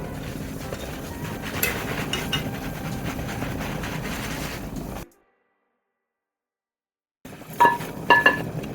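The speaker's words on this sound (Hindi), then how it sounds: "अब इन्हें हम प्लेट में निकाल लेते हैं" Fried methi muthiya are lifted out of a pan onto a plate, with light clinks and scrapes of a utensil against metal and dishware, then a short silence and a few sharper close taps.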